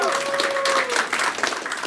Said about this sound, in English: let's get a big cheer for our warriors who stood up and went into the abyss